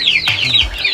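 Egg-laying backyard hens cluck up close in a short series of bright, rising clucks, with a rooster-like low grunt mixed in, loud and alone without talk.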